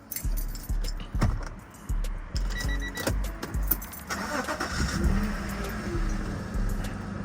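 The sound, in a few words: car engine starting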